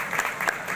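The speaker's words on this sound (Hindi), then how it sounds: "जोरदार तालियां बजा दीजिएगा" Brief applause from an audience in a church gathering, a short burst of scattered claps lasting under a second, close and moderately loud.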